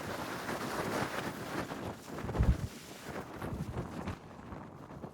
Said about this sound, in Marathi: काय वारा आहे हो, काय वारा आहे खतरनाक.